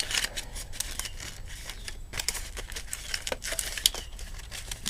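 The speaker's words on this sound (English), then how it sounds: "you're putting metal all over this board by wrapping it in aluminum foil" Well-used aluminum foil crinkles and crackles as it is wrapped around a laptop motherboard for reflowing, an irregular run of close, sharp rustles and crumples without speech.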